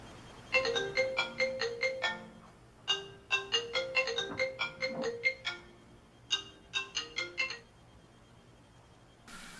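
A telephone rings in bursts of rapid electronic trills, three clusters separated by short pauses, fairly clear and alone with no voices.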